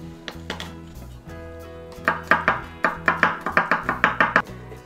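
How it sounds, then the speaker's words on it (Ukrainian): A knife chops garlic on a board for a Korean-style zucchini salad, starting with a few scattered cuts, then a fast, sharp, evenly spaced run of close chops, with no speech. "Чеснок подріблюємо."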